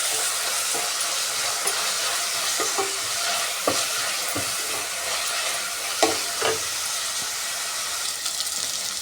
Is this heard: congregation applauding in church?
no